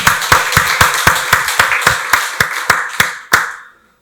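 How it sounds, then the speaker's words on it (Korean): A church congregation claps in unison in praise during a Sunday worship service, about a dozen loud, evenly spaced rhythmic claps that end in a final strong clap and fade to silence. "박수로 하나님께 영광 돌리겠습니다."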